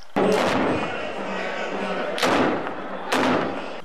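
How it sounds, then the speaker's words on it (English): Cannons fire in a 21-gun salute at the installation ceremony of the Emir of Kano. Three heavy booms, each with a rolling rumble, come at spaced intervals over faint crowd murmur. "21-gun salute followed."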